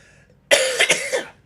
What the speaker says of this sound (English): My cough is going to dominate me, I think.